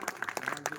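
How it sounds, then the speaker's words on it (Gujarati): An audience at a Gujarati satsang claps, a short burst of scattered, lively applause from a crowd of devotees, heard clearly and without speech. "એમને પણ એક તાળીથી વધાવો"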